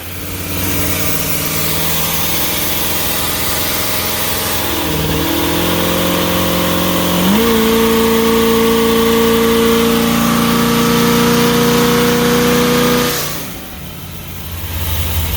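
A motorhome engine runs steadily and close, its revs climbing in smooth steps to a higher sustained pitch, then dropping away near the end.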